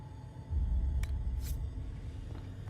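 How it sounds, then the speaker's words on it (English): Low thunder rumble in the video game Dragon Age Inquisition, Jaws of Hakkon: a deep, steady roll that swells in and lingers, faint and distant, with a couple of soft clicks over it. "Is that thunder out here?"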